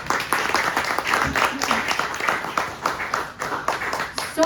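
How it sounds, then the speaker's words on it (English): Audience applause closing a poetry reading event, a dense, steady wash of many hands clapping at a moderate level throughout, with some voices mixed in. "give the poets here a big round of applause"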